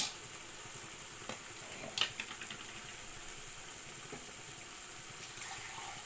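Eggs fry in oil for an egg fry, giving a steady, even sizzling hiss with a few sharp pops and crackles scattered through it. No voices are heard.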